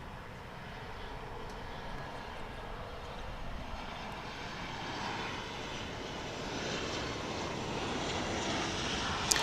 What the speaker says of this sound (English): Here comes a flight in from Albuquerque, New Mexico, flight 2335 American Airlines, a 737-800.